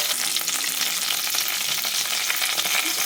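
Cumin seeds, broken dried red chillies and curry leaves fry in hot oil for a brinjal curry while being stirred, giving a steady, close sizzle throughout with no talking.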